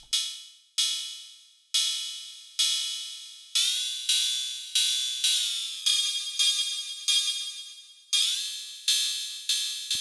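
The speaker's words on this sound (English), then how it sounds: "let's go ahead and make kind of a ride cymbal here" Synthesized ride cymbal programmed in an electronic music sequencer, a run of bright metallic hits with long decaying tails, evenly spaced at first and then arriving at shifting intervals, loud and alone.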